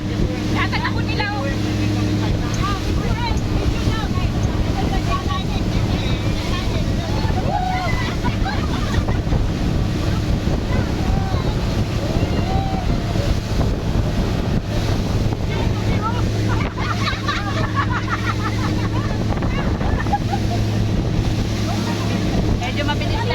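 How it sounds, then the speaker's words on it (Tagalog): A motorboat runs fast across open sea toward Little Cayman, its hull slapping and bouncing over the waves amid a steady roar of engine, wind and spray, with people talking over the noise throughout. "Tumatalon yung bangka."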